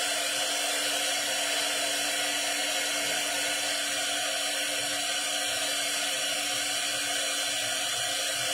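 A dryer blows a steady, even rush of air to speed the drying of an egg carton craft flower, a continuous close whoosh with no pauses and no voices.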